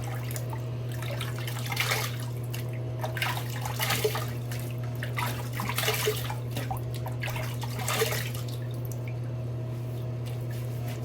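Water splashes and drips as a face is rinsed after a wet shave. The splashes come in soft, repeated bursts every couple of seconds over a steady electrical hum, with no voices.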